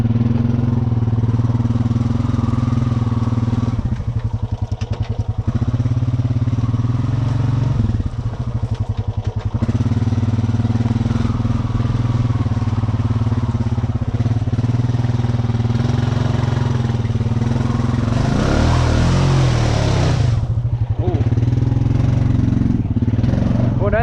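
Two-wheel-drive 420 ATV churning through mud, its engine droning steadily throughout with surges and clattering bursts, rising to a louder rev near the end, with voices talking over it.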